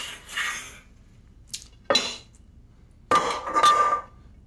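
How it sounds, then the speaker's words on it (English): A heavy cabbage cooking pot is lifted off a kitchen stove, with a few sharp metallic clanks and scrapes of pot and lid against the hob, spaced out between brief quiet moments. "So let's take that off the stove."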